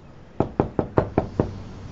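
Knocking at a door: six evenly spaced sharp raps in a quick steady rhythm, close and clear against a quiet room, with no talk.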